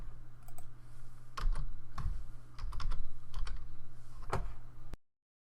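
Typing on a computer keyboard, a steady patter of key clicks with a few louder isolated strokes, close up over a low constant hum, no voices.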